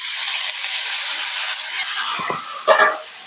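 Water splashed into a hot pan of frying fig and prawn masala sends up a loud, broad steamy hiss that fades slowly, with a few bubbling spurts near the end.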